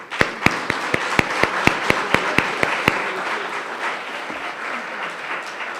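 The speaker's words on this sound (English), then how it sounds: "I'd like you to clap yourself." An audience at a university student achievement awards ceremony claps in a steady rhythm of about a dozen sharp, evenly spaced claps, then falls into a softer wash of scattered applause that fades out.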